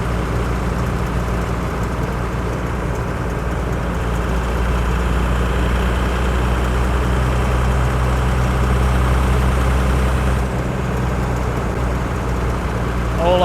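Turbo diesel engine of a Toyota HJ75 Troopy heard from inside while driving, a steady loud low drone with a constant hum, unbroken throughout with no talk.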